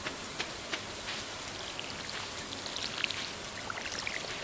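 Steady rain falls in the Stardew Valley farming game, a dense, even patter of drops with scattered brighter taps, heard alone at moderate level.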